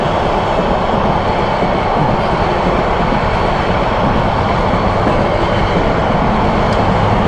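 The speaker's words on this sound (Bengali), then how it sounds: "আসলে আন্তনগর ট্রেনগুলো খুব বড় হয়, এত স্পিডে যাচ্ছে তাও শেষ হয় না" An intercity train with Shovon Chair coaches passes at speed at a signal on the road from Dhaka to Rangamati, a loud, steady, close roar of wheels and carriages without pause.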